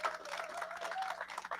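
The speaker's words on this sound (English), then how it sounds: "Everybody give him a big round of applause." Audience applause for a speaker at an evening huddle-up talk, a steady wash of many hands clapping at moderate level for the whole stretch with no voices over it.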